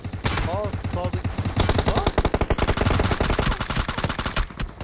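Automatic rifle fire in PUBG Mobile rattles in fast, loud bursts, mixed with other shots during a duo squad match, while players shout and talk excitedly over the shooting.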